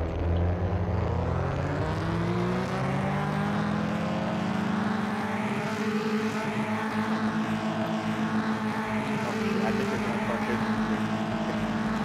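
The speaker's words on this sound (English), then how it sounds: "Bikes are really loud." In the video game Unturned, loud bikes chase, their engines giving a continuous droning whine that rises and shifts in pitch throughout, with no talk over it.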